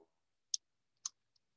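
A few faint, sharp computer mouse clicks on a list button in a spreadsheet or database lesson, two distinct clicks and a softer tick, isolated in near silence.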